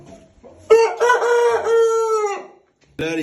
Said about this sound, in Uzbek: Hamdana xo'rozi ham bor,